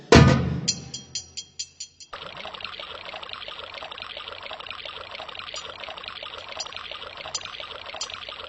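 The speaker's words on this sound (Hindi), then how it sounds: "ये तो पानी की खलखलाहट की आवाज सुनाई दे रही है" Water trickles and pours continuously like a small babbling stream or waterfall, a steady close splashing that follows a few sharp, ringing knocks at the start, with no one talking.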